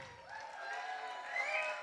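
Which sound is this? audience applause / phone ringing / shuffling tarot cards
audience applause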